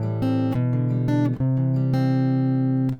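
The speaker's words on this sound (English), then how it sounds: "So the chord progression would sound like this at first." Guitar strums through a simple chord progression, sustained chords ringing out with a few clean changes and brief gaps between them, played close and alone without any talking.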